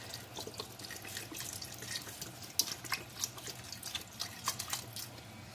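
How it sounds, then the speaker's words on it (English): Vegetable broth from a 32-ounce carton pours into a pot for white chicken chili, a faint, uneven trickling splash with small drips, no voices. "I'm just going to add about half of a 32 ounce of vegetable broth"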